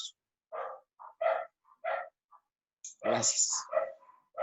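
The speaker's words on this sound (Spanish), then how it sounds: "No veo quién tiene un perrito que esté ladrando." A small dog barks a few times in the background of a conference hall, with short yips heard between and under a man's speech.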